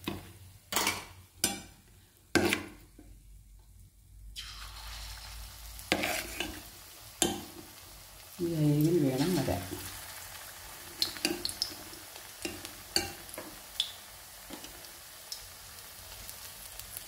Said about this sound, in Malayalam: എന്നിട്ട് ഇങ്ങനെ സ്പൂണിൽ തിളക്കുന്ന എണ്ണയിലോട്ട് കോരി ഒഴിച്ച് ഇടുന്നതാണ് ഈ കടലമാവ് വട.